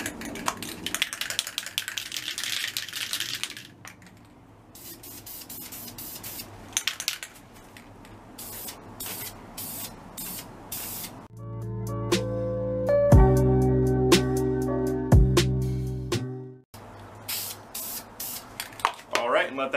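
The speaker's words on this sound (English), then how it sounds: "I'm going to start putting on my black spray paint" Quick-drying indoor-outdoor satin black spray paint hisses from an aerosol can onto wheels in short bursts. A longer continuous spray follows, with can rattles and light handling noises in between.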